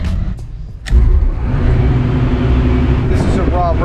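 A Harley-Davidson M8 131ci Stage 4 engine with an S&S 590 cam, not yet tuned, runs on a dyno: a brief lull, then it revs up hard into a loud, sustained, close roar.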